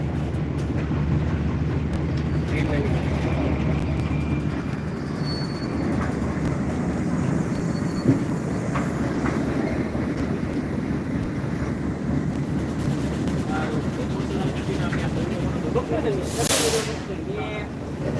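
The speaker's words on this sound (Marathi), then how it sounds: "अशी खडी घेऊन ट्रेन आली आहे आपल्या राजुरीच्या जवळ" A heavy freight train loaded with gravel rumbles steadily nearby for a long stretch near Rajuri in Beed district, with wind buffeting the microphone and a voice talking over the noise.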